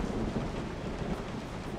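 Steady rain with a low thunder rumble from a stormy night scene in the Resident Evil 7 horror video game, a continuous wash of rainfall and distant storm noise with no voices.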